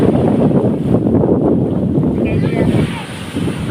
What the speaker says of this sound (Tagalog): Malakas ang hangin, maririnig niyo naman sa aking background.